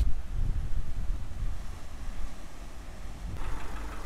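Strong wind blows along a beachfront and buffets the microphone in a steady low rumble, with a gustier rush near the end.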